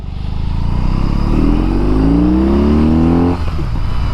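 BMW cruiser motorcycle engine revving as the bike rides, a loud steady drone whose pitch rises smoothly through an acceleration before the throttle eases off near the end.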